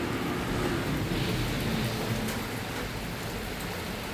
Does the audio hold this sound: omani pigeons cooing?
no